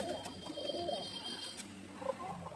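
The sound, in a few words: Bengali pigeon chicks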